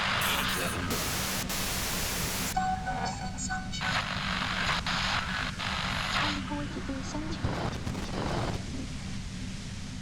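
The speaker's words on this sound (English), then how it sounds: "Her voice trails off into white noise in your head." Harsh hissing static swells in the Disco Elysium video game, a steady wash of white noise mixed with flickering electronic tones and a low droning hum, continuous throughout.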